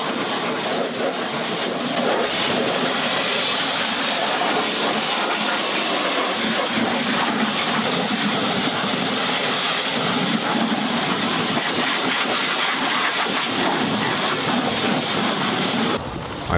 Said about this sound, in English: Utilise the high stream of water from the jet wash to make your contact cleaning as easy as possible.